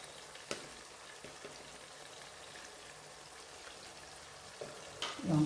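Turmeric and other ground spices fry in hot oil for a Bengali vegetarian green peas and matar dal bori dish, giving a faint, steady sizzle with a few soft stirring clinks.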